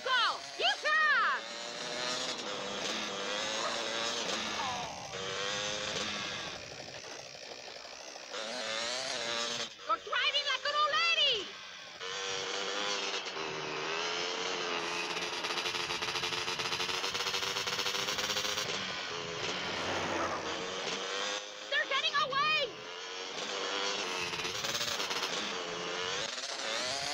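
A car drives in GTA San Andreas with a continuous, revving engine drone that rises and falls in pitch. Voices and game sounds run over it throughout.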